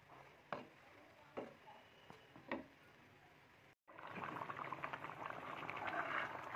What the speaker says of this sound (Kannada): ಮಸಾಲೆ ಕುದಿಯೋ ಅಷ್ಟೊತ್ತಿಗೆ ಚೆನ್ನಾಗಿ ಬದನೆಕಾಯಿನೂ ಬೆಂದ್ಬಿಡುತ್ತೆ